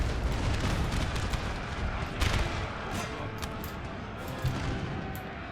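Massed musket volleys roll across a battlefield in Napoleon: Total War, a dense, continuous crackle and rumble of distant gunfire with heavier booms rising now and then, steady for several seconds.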